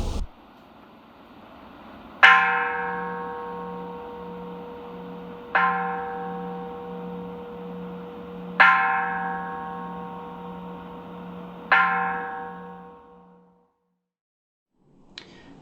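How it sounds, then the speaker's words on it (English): A deep Jodo Shinshu Buddhist temple bell is struck four times at slow, even intervals, each resonant ring humming and fading away before the next strike. "Listening to each sound of the bell as it disappears"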